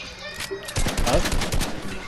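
Rapid gunfire in a video game, a short loud burst of shots that starts after a brief lull, with a voice talking over it.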